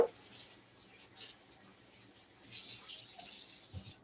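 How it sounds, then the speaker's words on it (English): A kitchen knife is rinsed under a running tap, a soft, steady stream of water splashing at close range with small shifts in flow and no voices. "let's rinse this off, rinse this knife off because I'm going to need it"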